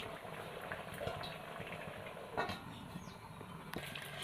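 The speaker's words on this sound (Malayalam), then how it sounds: "ഇതാ നമ്മുടെ കറി ഇപ്പോൾ തിളച്ചിട്ട് ഇങ്ങനെ ആയി കിട്ടിയിട്ടുണ്ട്" Bitter gourd and egg curry simmering in a covered pot, giving a steady low bubbling hiss throughout with a few faint clinks, close and fairly quiet.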